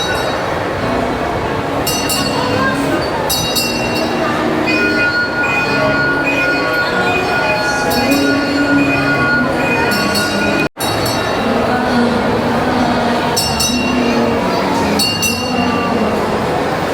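Ride-on train in a shopping mall running steadily, with rumbling wheels, repeated high squeals and metallic clinks, loud and close against a crowded indoor background with faint voices.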